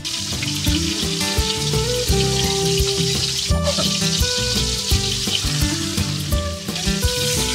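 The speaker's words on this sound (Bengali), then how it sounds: "একেবারে তাজা মাছ কিছুক্ষণ আগে ধরা হলো, কেটে কুটে রান্না করা।" Freshly caught, cut fish fries in oil aboard a fishing boat, a loud continuous sizzle and crackle close up, with occasional stirring clinks and no one talking.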